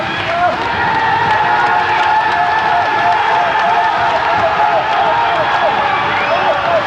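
An Icelandic crowd at a 1990 European powerlifting championship cheers a lifter on, a steady loud roar of voices and shouts with some clapping throughout, and a commentator talking over it.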